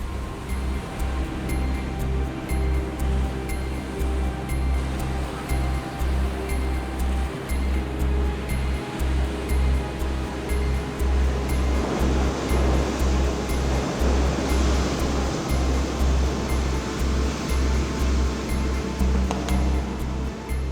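Steady roar of Atlantic surf at the Etel bar in Brittany, waves breaking continuously, a dense wash of water noise growing rougher midway, with a low rumble beneath.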